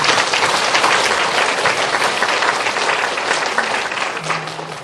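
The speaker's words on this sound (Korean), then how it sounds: "하나님께 영광의 박수를 드립니다." A church congregation applauds together in a loud, sustained burst of clapping that fills the room and slowly tapers off toward the end.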